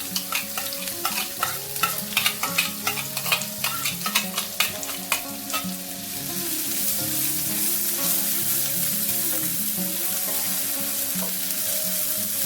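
Chopped onions and ginger fry in a pan, with a rhythmic series of spoon scrapes and clanks as they are stirred. The stirring then gives way to a steady, close sizzle.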